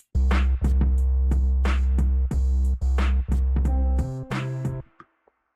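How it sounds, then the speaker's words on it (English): Drum track with reverb added, sitting farther back in the mix: steady loud hits over a sustained low bass tone, each stroke trailing into a wash that lingers and fades out alone at the end. "with the reverb, it's going to sound a little bit farther away"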